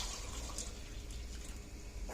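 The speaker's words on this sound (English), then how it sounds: "We're going to fill this up with water," A steady, gentle rush of water flows continuously from a tap into a cup, with no voices.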